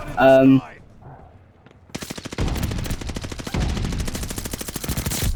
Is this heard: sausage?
no